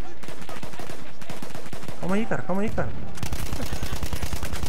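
Rapid automatic bursts from a BAR M1918 rifle in the Battlefield 1 shooter, loud sharp reports in quick rhythm, with someone speaking briefly in between before another sustained volley.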